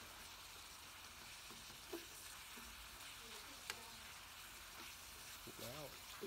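Pork stir-frying in a pan, a continuous close sizzle with occasional clinks and stirring scrapes, while a voice speaks briefly in the background.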